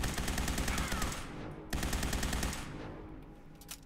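Automatic fire from the AQUILA-modded laser rifle in Fallout 4 rattles out in rapid, dense bursts, one brief break near the middle before the stream resumes and tapers, with a few isolated shots at the end.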